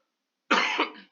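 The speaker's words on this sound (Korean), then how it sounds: "제가 코로나가 걸렸어가지고 아직 기침이 좀 나오네요" One sudden, close cough from a person with COVID, heard alone and lasting about half a second.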